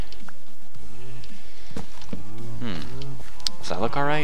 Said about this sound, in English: Yo, shut up, cows.